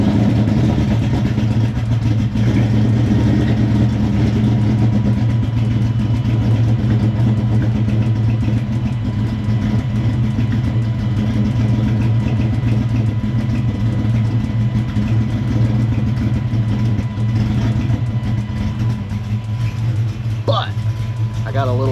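Ford Coyote V8 idling loud and steady with a low, choppy cam rumble, continuous and close, with talk over it.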